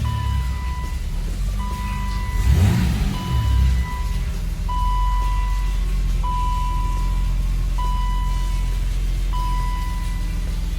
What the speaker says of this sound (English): and then I can start the car with no problem.